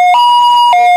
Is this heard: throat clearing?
no